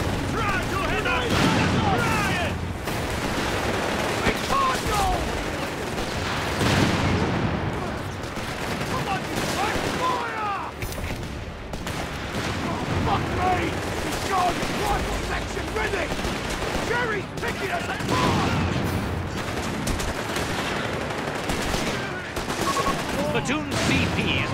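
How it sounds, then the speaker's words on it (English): Heavy gunfire in the World War II strategy game Company of Heroes 3 crackles almost nonstop as rapid rifle and machine-gun volleys with occasional booms, while soldiers shout over the din. "Taking heavy enemy fire here!"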